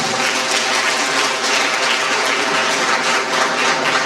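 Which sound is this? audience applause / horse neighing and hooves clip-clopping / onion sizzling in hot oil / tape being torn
audience applause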